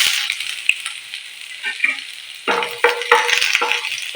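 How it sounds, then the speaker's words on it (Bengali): Chopped ginger dropped into hot oil left from frying chicken starts as a quiet hiss, then breaks into louder crackling sizzle bursts with stirring. "এরপরে ওই তেলের মধ্যেই আমি দেবো প্রথমে আদা কুচি"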